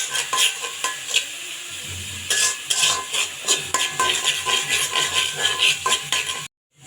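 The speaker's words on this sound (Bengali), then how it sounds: "এখন এই যে পেঁয়াজ মরিচ ভাজতে দিচ্ছি" Onions and green chilies fry in a pan with a continuous close sizzle, broken by repeated scrapes and clinks of a spatula stirring against the metal before a sudden cutoff.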